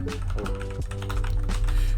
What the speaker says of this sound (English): As you saw as I was typing